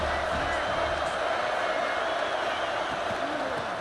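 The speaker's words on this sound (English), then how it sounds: "The Tide crowd rolling noise down on the Saban field on 3rd down" A steady, dense roar from an Alabama Crimson Tide stadium crowd on third down holds level throughout, a continuous wash of massed voices with scattered cheers and whoops.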